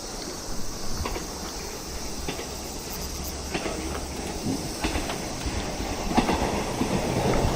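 A regular, non-Shinkansen train passing near Yamagata Station in Yamagata, Japan, a steady rumble with faint rhythmic clickety-clack of wheels on rail joints, moderately distant and continuous.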